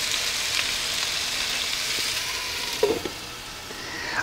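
Butter sizzles softly in a pan while salmon cooks, making a low, even frying hiss with one brief clatter near the end. No voice is heard.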